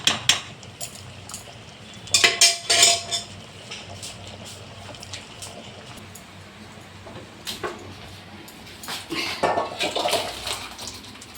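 A pot of five-ingredient dal with pumpkin greens is lifted off a kitchen stove, giving clattering metal knocks and scrapes in a few short clusters over a quiet background of faint bubbling.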